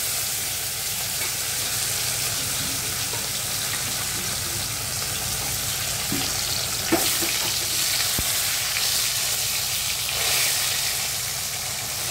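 Chara pona fish fry in hot oil in a kadai, a steady broadband sizzle crackling throughout with a couple of brief clinks of utensils, and no voices.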